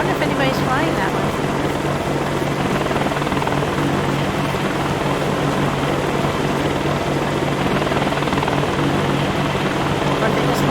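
Helicopter engine and rotor roar in the video game DayZ, a steady loud drone with rhythmic rotor chop throughout, with a voice talking over it.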